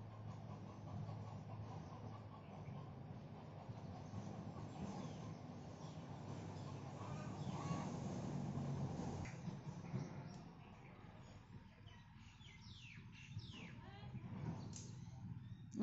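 Unfamiliar bird calling outdoors, short chirps and call notes heard at a moderate distance over a steady background of ambient hum and other birds, growing sparser toward the end.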